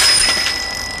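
A bicycle bell on a new bike gives a single bright ring that decays over about a second, clear and alone.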